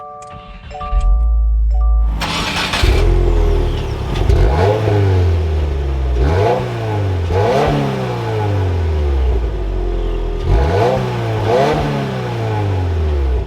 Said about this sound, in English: let's go ahead and start this up